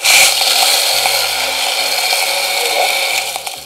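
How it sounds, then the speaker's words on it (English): A blender loudly crushing ice with dark rum for a cocktail, a harsh steady grinding whir with a rattling, uneven texture running the whole time without talk. "And then we do crushed ice, and we put that in the blender."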